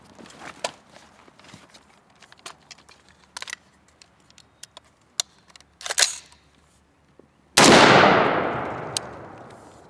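A folding AR rifle fires a single loud, close round after a shot timer beep; scattered clicks and handling noises of gear being readied come before it, and the shot's echo decays over about two seconds.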